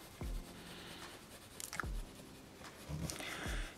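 A pencil in a dark tone shades shadows onto paper for a key-and-lock drawing, soft scratchy strokes in a few separate bursts, quiet and close.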